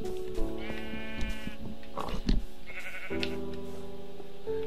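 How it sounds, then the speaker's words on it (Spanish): Sheep in the video game Minecraft bleat in several distinct, wavering calls that come one after another, set against a quiet game background, with no talking. "Mira, aquí hay ovejas."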